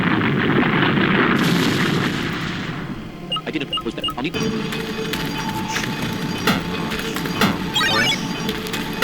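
Cannon fire in the video game Manamon 2: a loud rumbling blast fills the opening seconds, followed by a string of sharp bangs and crackles over a steady booming game soundtrack.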